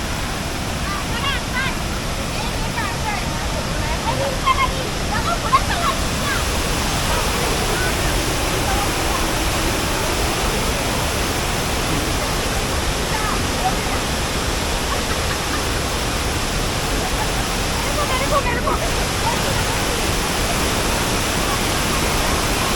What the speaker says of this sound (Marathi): इथून आपण या वरच्या धबधब्याचा आनंद घेऊ शकता